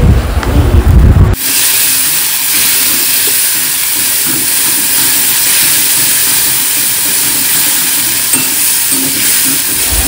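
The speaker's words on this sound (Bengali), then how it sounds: "পেঁয়াজের মধ্যে এবার ভালো করে মশলাটাকে কষিয়ে নেব কিছুক্ষণ" Spices with ginger, garlic and a few nuts frying with onions in a pan, a loud, continuous sizzling hiss that follows a brief burst of clatter at the start.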